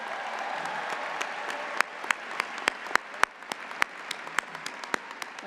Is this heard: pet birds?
no